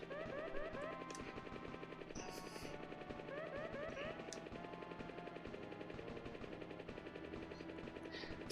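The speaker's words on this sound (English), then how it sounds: "the reason we are here flying a helicopter" A helicopter flies in the SNES video game Pilotwings, its rotor rendered as a continuous rapid, buzzy chopping loop at low volume, steady throughout with small synthesized tonal blips over it.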